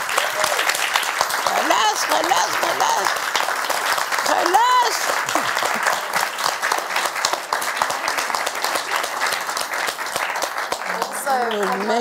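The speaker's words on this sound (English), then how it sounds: "A big round of applause for Kamala Ibrahim Ishag" An audience applauds Kamala Ibrahim Ishag at a Serpentine conversation event, sustained full clapping lasting many seconds, with brief voices rising over it now and then.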